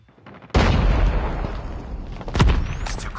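Gunfire in a competitive shooter video game: a sudden burst of loud, dense shots starting after a brief quiet moment and rolling on continuously, with a second punchy blast near the end and no voice over it.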